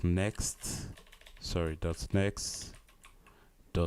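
Keyboard typing at a computer while coding a linked list, soft clicks running under a person talking throughout.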